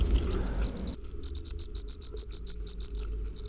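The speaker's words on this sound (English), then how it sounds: "I found this single 2-second long passage of chirping that matches almost exactly the stereotype of a cricket call" Cricket chirps come in quick, regular pulses, high-pitched and bright, repeating steadily for a few seconds with a brief pause near the start.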